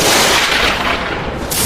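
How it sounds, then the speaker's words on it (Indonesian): A purple lightning strike and energy explosion sound effect land as one loud, dense, broadband roar that fills the whole short clip and stays heavy throughout. "Dari langit, petir ungu menghantam simbol tanah di bawah kaki Sura. Ledakan energi meledak dari pusatnya"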